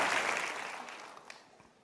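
An audience at a motivational talk applauds, a dense burst of clapping that fades away over under two seconds.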